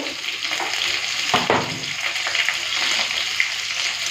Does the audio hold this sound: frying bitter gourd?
yes